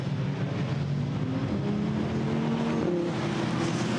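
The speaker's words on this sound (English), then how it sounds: "Pace car accelerates away" A pace car accelerates away at a Zandvoort GT4 race with a steady engine drone and rising pitch as it revs through the gears, heard at moderate distance with no talk.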